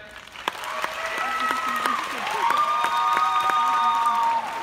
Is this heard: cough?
no